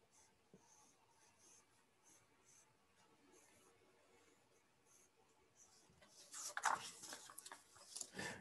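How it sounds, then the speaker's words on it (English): A pencil draws cube lines on paper, giving faint, soft scratching strokes that grow into louder, quicker scrapes toward the end. "I find that if I draw the first line and then I move the paper to match it"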